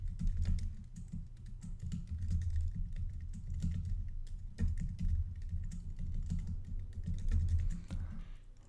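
Steady rapid clatter of keys on a computer keyboard, close and continuous with brief pauses, no voices.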